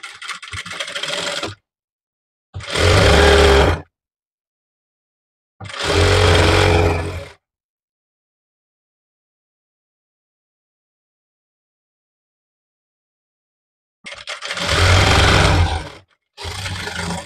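A sewing machine stitches an umbrella-cut frock in four separate bursts of close, rapid mechanical whirring, each lasting one to two seconds. Quiet gaps fall between the bursts, with a long pause in the middle.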